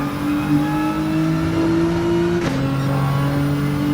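Nissan GT-R Gr.4 race car in Gran Turismo 7 on the Dragon Trail Seaside circuit, steady loud engine drone with a brief shift blip midway before the tone settles and pulls on.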